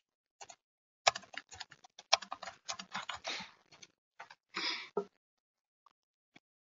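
Quick, irregular clatter of keys on a computer keyboard as questions are typed, close and fairly quiet, with short pauses between bursts and no talk.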